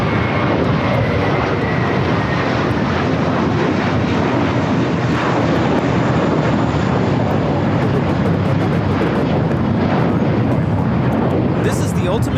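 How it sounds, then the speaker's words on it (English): Cathay Pacific Boeing 777-300ER rolling down runway 24 Left at LAX, a loud, steady, broadband jet roar that holds for the whole stretch without easing. "Cathay, the 777-300ER rolling down at 24 left."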